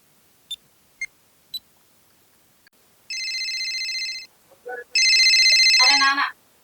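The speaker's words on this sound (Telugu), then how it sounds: "మరొకసారి మన సీన్కి ఫోన్ చేసి తెలుసుకుంటా." A phone call is placed. Three short beeps are followed by two long bursts of warbling electronic ringing tone, with a brief quiet gap between them.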